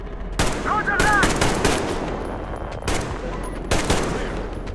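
Covering gunfire in the video game Metro Exodus crackles in repeated bursts of loud automatic shots with short gaps between them.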